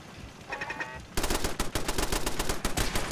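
Rapid gunshots from a Fallout 4 firefight crack loudly in a quick automatic string after a brief quieter lead-in, with no talk over them.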